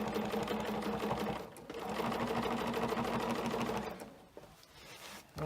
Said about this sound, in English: it always stitches a 1/4 inch away